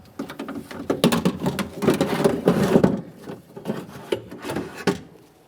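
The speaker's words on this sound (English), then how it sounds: "Now we can start removing the window regulator with motor assembly." Window regulator and motor assembly being pulled out of a 2015-2019 Subaru Outback front door, giving a run of close rubbing, scraping and knocking clatter that fades into a few sharp clicks.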